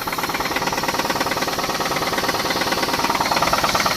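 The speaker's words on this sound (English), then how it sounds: "I mean, it's a knocking rod." A 2006 Pontiac G6 engine with a knocking rod runs steadily, its fast, even metallic knock repeating throughout at close range with no voices.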